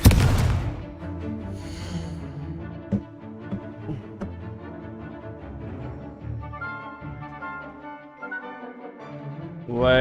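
A Confringo fire spell in Hogwarts Legacy bursts with a sharp blast at the start, followed by a rumbling game soundscape of scattered booms and magical whooshes, ending in another swelling surge.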